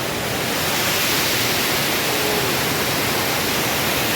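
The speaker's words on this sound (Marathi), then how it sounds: "वॉटरफॉल बारीक आनी क्यूटशे आसा सो आवाज आयकत दिसता" A small waterfall in Canacona, Goa pours steadily as a dense, even, close rushing wash of water that holds the same level throughout, with no other sounds.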